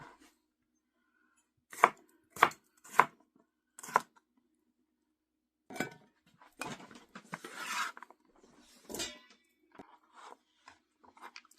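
A knife chops unpeeled potatoes into bite-sized pieces on a board: a few quiet, crisp chops in a row, a pause, then softer scraping and cutting sounds, with no talk.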